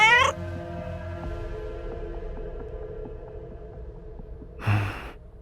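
A cat gives a short meow at the start and another brief vocal sound near the end, separated by a steady low hum and faint background tones in an otherwise quiet indoor space.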